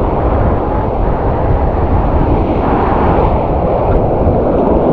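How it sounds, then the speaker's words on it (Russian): Sea waves break steadily on a sandy beach at Anapa, a loud continuous broadband wash with no clear gaps between surges and strong wind rumble on the microphone. "Ну это волны классные."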